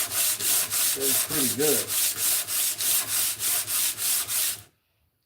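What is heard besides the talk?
sanding with sandpaper in a shop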